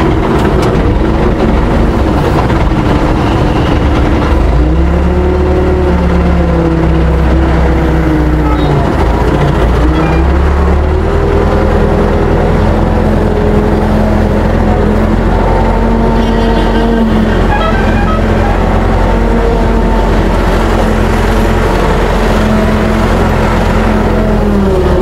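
An Escorts crane's diesel engine runs continuously while the machine drives and then reverses, a loud low rumble with shifting tonal whine as revs rise and fall, close and unbroken throughout.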